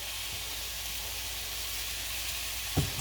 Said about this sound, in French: C'est le moment de rajouter l'ail émincé qu'on a fait tout à l'heure.